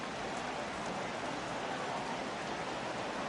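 Heavy rain pours steadily over a baseball stadium during a Cubs at Cardinals MLB game, a dense, even hiss of falling water with no break and no voices.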